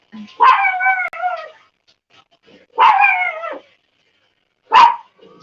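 A dog barks in three separate bursts spaced a couple of seconds apart, each a drawn-out, whining bark, close to the microphone, with quiet gaps in between.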